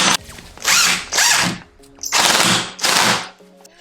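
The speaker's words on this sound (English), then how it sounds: "so now we're going to screw our lock on" A power drill drives screws to fix a lock onto a wooden door, giving four loud, close whirring bursts separated by short pauses.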